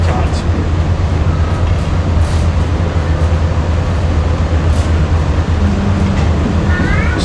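Walt Disney World monorail ride toward the Transportation and Ticket Center: a steady, loud low rumble of the train running throughout, with faint squeals near the end and a voice murmuring under it.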